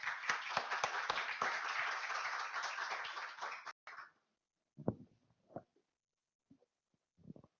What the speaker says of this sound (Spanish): Recibamos al doctor Conejo Hernández con un fuerte aplauso, por favor.